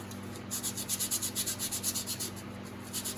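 Sandpaper rubs smoothly over a small homemade wooden perch lure in a quick run of about a dozen back-and-forth strokes, close and fairly quiet, with no voices.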